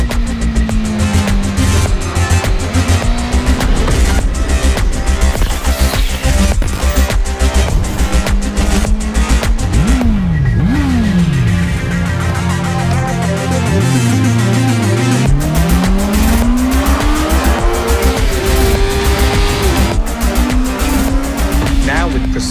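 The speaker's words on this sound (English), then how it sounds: "Riding on open fun roads is a lot more enjoyable with e clutch." Honda CB650R motorcycle with e-clutch ridden on open roads, its engine revving up and down through gear changes, loud and steady with wind noise throughout.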